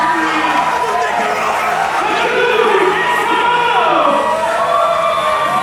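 A loud, continuous crowd roar with cheers and whoops fills an indoor district wrestling show as a tag team wearing kimonos makes its entrance, steady and dense throughout.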